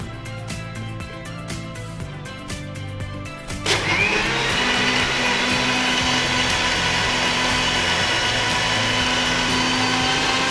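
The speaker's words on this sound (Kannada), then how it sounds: "ಜ್ಯೂಸ್ ಅಂತ ಬಂದಾಗ ಈ ಥರ ಮಿಕ್ಸಿಯಲ್ಲಿ ರನ್ ಮಾಡೋದೇ ಸ್ಪೆಷಲ್" A kitchen mixer grinder blending tender coconut juice with ice cubes, starting up abruptly after a few seconds of quieter background and then running loud and steady as a close, continuous whir.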